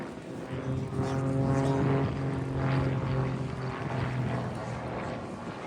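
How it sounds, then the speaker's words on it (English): Grob Tutor training aircraft in an aerobatic display at an air show at Dalton Barracks, its propeller engine droning loudly with a harmonic buzz that swells and eases as it climbs and turns, heard from the ground. "Bob now rolls 90 degrees while pointing straight up before completing a stall turn at almost zero airspeed"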